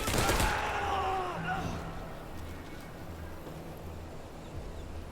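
A burst of gunfire opens the scene in the WW2 realtime stealth tactics game, loud and sharp at first, then trailing off into a low, rumbling tail while a voice speaks.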